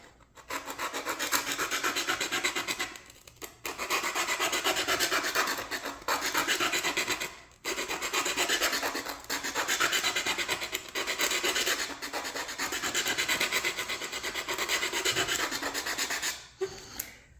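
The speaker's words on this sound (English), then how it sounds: "So I'm going to file those or sand those out until we can reliably get these in with a nice tight fit." Steady rasping strokes of a file on charred wooden parts for a Model Shipways Norwegian sailing pram kit, close and continuous with a few brief pauses.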